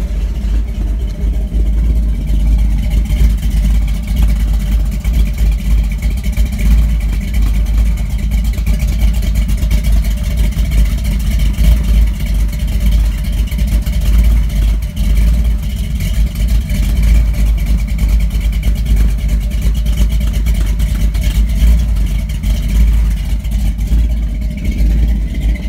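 Blueprint 383 stroker V8 car engine running steadily with a deep, loud rumbling exhaust, holding a fairly constant drone throughout with little change in revs, no voices heard.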